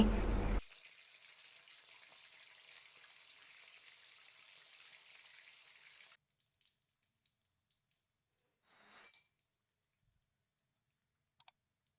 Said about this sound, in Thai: ตั้งน้ำมันให้ร้อนนำปลากระพงที่หั่นชิ้นลงไปทอดให้สุกเหลืองกำลังดี